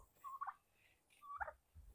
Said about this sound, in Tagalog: Ating mga pabo.